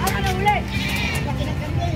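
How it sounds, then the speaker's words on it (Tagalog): A large full-blooded goat bleats with wavering cries at a busy livestock market in San Carlos, Pangasinan, amid crowd chatter and nearby talking. "Ang laking kambing."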